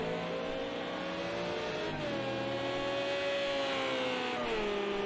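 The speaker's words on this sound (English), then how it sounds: "Absolutely a quintessential Ferrari sound now, screaming from the exhaust." A 1998-era Ferrari GT race car in Project Cars 2 at Silverstone screams at high revs, a steady loud engine wail that drops in pitch at gear shifts before climbing again.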